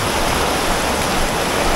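Heavy rain pours down in Nha Trang at the start of the rainy season, a dense, steady hiss of water filling the whole clip without any voices.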